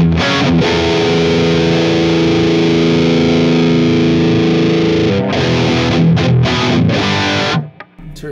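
A distorted guitar amp on channel 3 in modern mode plays through a cabinet with V30 and Greenback speakers, loud sustained chords ringing for about seven seconds before cutting off into brief quieter scratches.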